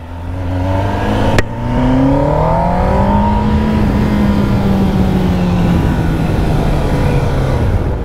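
Kawasaki ZX-10R sport motorcycle at full throttle in first gear, a loud close engine howl rising steeply in pitch, then held high and steady with a slight dip near the end.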